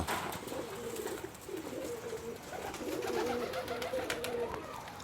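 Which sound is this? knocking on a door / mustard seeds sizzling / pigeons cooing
pigeons cooing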